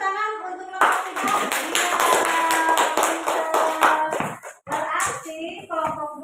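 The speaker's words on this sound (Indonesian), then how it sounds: "Tepuk tangan untuk kelompok 3." Children in a classroom clap together for a group, a dense burst of hand claps lasting several seconds with a brief pause and some voices mixed in.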